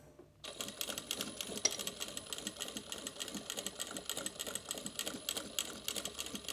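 A sewing machine set to a fast speed stitches a tote bag, producing a rapid, steady mechanical clatter that starts abruptly and runs close and continuous without voices.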